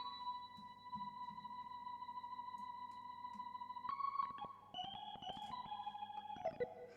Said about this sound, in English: this is the Hammond organ